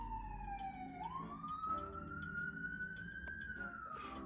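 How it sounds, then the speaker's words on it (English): A New York City street siren wails in the distance, a faint rising and falling tone that runs steadily behind quiet background noise. "Living in NYC with a siren in the back."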